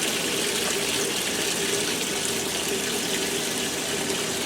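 Kenmore 80 Series washing machines filling with water, a steady, loud rushing gush that continues unbroken, close by, with no voices.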